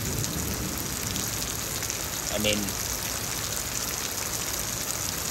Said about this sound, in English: there might be some small hails now coming down